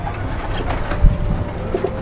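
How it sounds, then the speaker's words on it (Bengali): Pigeons coo softly at a rooftop farm, with low murmuring calls and a brief thump of movement over a steady background hum. "এই যে আমাদের কবুতর"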